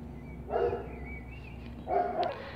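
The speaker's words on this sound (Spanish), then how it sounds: "hay aquí un jaleo de perro en el vecino de al lado" A neighbour's dog barks twice next door, each short burst of yapping separated by a pause, heard from a moderate distance over a quiet room.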